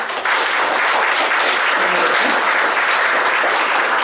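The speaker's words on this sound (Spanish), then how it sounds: "Les pido que por favor le brinden un caluroso aplauso a nuestros panelistas." A seated audience at a Peruvian short-story panel applauds the panelists with dense, sustained clapping that fills the whole stretch at an even, loud level.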